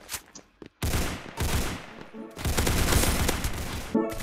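Dense, loud automatic gunfire in the video game Rush Point, sustained bursts that run back to back with brief gaps between volleys.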